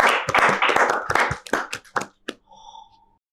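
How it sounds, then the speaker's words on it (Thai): An audience claps on a Thai talk show, a burst of brisk, uneven hand claps for about two seconds that thins out into a few scattered claps, followed by a short, steady tonal ring. "ขอเสียงปรบมือให้หมอเหน่งอีกรอบนะครับ"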